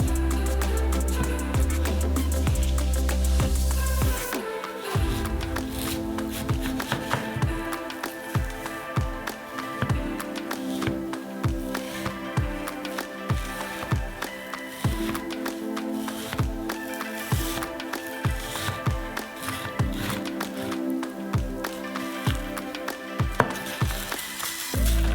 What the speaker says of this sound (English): We cut it into strips lengthwise.